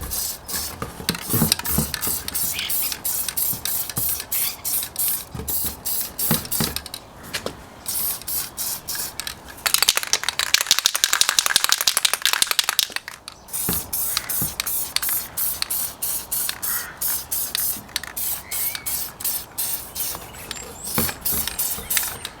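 An aerosol spray paint can sputters through camouflage stencils in many short, rapid hissing passes. A longer continuous burst comes midway, close and fairly loud, with the atomizer sounding uneven.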